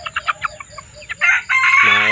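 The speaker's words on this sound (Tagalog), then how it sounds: "giant type ito ng mga manok" Close Shamo chickens give a quick run of clucks, then a rooster launches into a loud, drawn-out crow that carries to the end.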